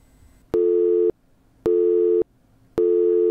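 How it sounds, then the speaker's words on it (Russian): A telephone line sounds three identical loud electronic beep tones, evenly spaced with short silent gaps between them, clean and close. "Оставьте сообщение после звукового сигнала."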